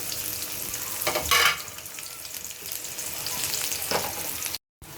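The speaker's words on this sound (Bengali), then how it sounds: "পেঁয়াজ কুচি, কাঁচামরিচ কুচি দিয়ে দিলাম" Chopped onion and green chili fry in hot oil in a pan, a steady close sizzle with a brief louder stir-like burst early on, no talking over it.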